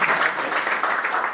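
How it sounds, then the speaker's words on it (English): A conference audience at an investment summit finale applauds, a dense steady patter of many hands clapping together for a brief moment. "Give her a round of applause."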